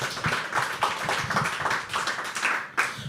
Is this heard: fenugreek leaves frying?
no